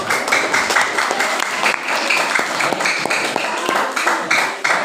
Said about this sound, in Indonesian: silakan dikasih kelompok B tepuk tangan